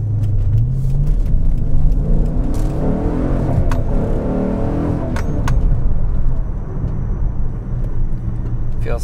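A Dodge Challenger R/T fitted with a differential brace revs and drives, its engine a steady close rumble with rising and falling pitch as it accelerates over a lap.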